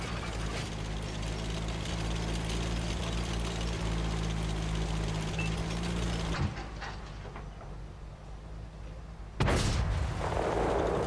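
Tanks trade cannon fire in a World of Tanks battle. A steady engine drone runs under the action, a heavy boom cuts in partway through, and a second sharp blast comes near the end.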